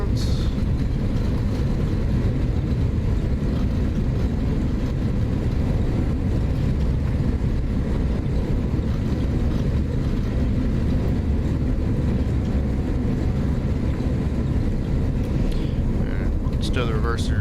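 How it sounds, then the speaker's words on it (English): Airliner thrust reversers deployed during a landing rollout in the X-Plane 11 flight simulator, giving a steady, heavy low roar that holds at one level for the whole stretch. "Reversers out."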